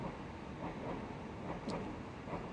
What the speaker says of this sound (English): there we have a train coming through